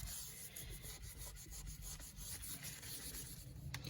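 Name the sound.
scrubbing sink with mild abrasive cleanser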